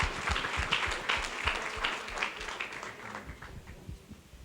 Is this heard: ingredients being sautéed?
no